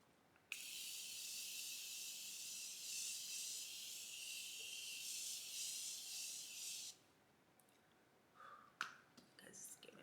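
Makeup setting spray misted onto a face in one long, continuous hiss of about six seconds, close and clear, followed by quiet handling clicks.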